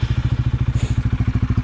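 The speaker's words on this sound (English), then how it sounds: "is the sound with the new exhaust" A Honda CBR 125 R motorcycle with an aftermarket Black Widow exhaust throbs with a deep, rapid, evenly pulsing rumble, loud and close, holding a steady beat throughout.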